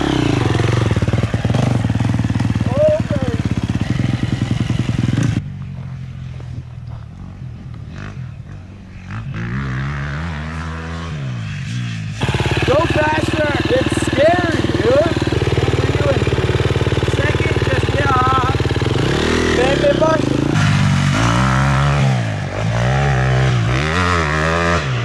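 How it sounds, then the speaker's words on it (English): An old Husqvarna dirt bike on a spring mountain outing revs and rides, its engine note rising and falling loudly and close, easing off to a lower idle-like drone in the middle before pulling hard again. "About to rip the old Schofield Husqvarna."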